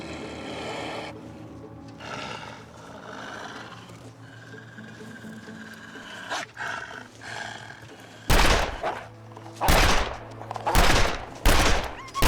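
Gunfire aimed at wolves in the survival video game The Long Dark: after a stretch of quieter ambient game sound, four loud, sharp shots ring out near the end, spaced about a second apart.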